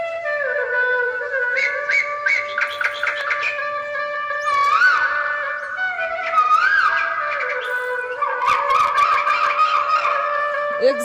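Around dawn in a village, a peacock gives repeated loud, wavering honking cries over a steady bed of chirping from many gathered sparrows.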